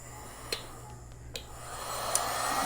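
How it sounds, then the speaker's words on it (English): A heat gun set on high blows across an embroidered structured hat, giving a soft, steady airy hiss that swells slightly toward the end, with a few faint clicks and taps nearby. "I'm gonna still hit it with the heat gun"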